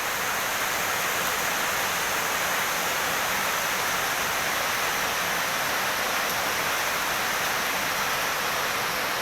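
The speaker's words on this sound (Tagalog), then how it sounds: "Malalakas na buhos ng ulan" Heavy rain pours down in a dense, unbroken hiss, loud and steady throughout with no voices or other sounds breaking through.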